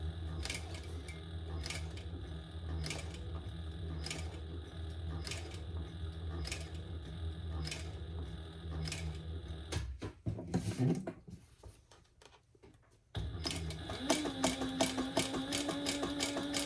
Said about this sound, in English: And I'm just sewing an 1/8 of an inch, and I'm using a stitch length of 4.